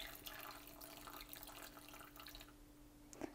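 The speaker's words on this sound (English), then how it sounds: "So we're going to go ahead and water a couple of our plants here." Water pours steadily from a ceramic thumb watering can onto potted plants, a soft, faint trickle and splash that runs for a few seconds and then tapers off, ending with a small drip.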